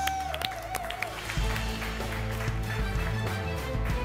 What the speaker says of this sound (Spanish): ¡Aplauso para ellos dos!